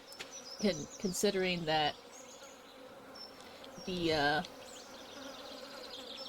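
Sand bees buzzing in the Stardew Valley video game, a few short rising-and-falling buzzes heard under a quiet voice talking.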